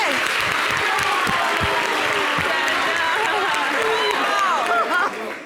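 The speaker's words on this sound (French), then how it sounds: "puis vous allez applaudir maintenant" An audience applauds loudly and continuously, a dense wash of clapping with scattered voices and cheers mixed in, easing off only at the very end.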